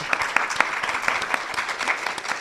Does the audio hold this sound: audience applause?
yes